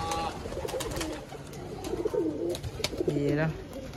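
Nearby pigeons, Madrasi breed kept by a desi fancier, give soft repeated throaty coos amid scattered wing flaps, with people talking in the background.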